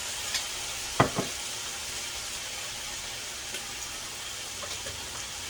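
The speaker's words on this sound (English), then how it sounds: "You hear the sizzle sound? Oh, it's gorgeous." Steady, crackling sizzle of orange roughy and asparagus stir-frying in a hot pan, with a few brief clinks and scrapes of a utensil early on.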